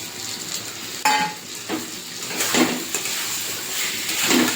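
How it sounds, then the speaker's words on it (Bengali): Rice stirred and fried with spices and already-fried potatoes in a pan for a katla fish-head muri ghonto, giving a steady soft sizzle with scraping spatula strokes and occasional sharper clinks against the pan. "চালটা ভালো করে মশলার সাথে আমি কষিয়ে নেব"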